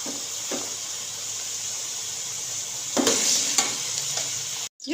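Moongre (radish pods) frying in hot oil: a steady bright sizzle with occasional louder bursts as the pods are stirred, close and alone, cut briefly near the end.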